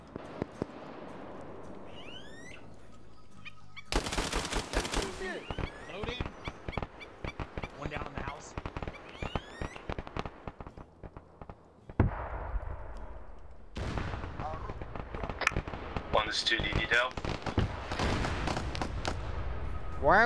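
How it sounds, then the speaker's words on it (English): Video game gunfire from a large firefight against insurgents: bursts of rifle and automatic fire crackle in dense volleys, with a quiet stretch and then heavy shooting again, while players talk throughout. "Last gunshots were up there."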